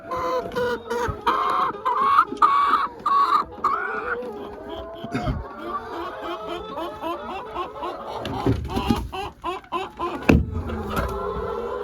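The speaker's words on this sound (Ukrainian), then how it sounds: "Курочка у нас чеський домінант, ламан браун і наші домашні м'ясний крос." Farmyard hens of Czech Dominant, Lohmann Brown and meat-cross breeds cluck and cackle in close, overlapping bursts, with brief voices in the background.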